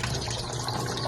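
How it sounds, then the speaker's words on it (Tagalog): Water runs steadily from a tap into a container for laundry washing, a loud, even rushing fill with no break and no talk. "Magkuhan pa ko og tubig."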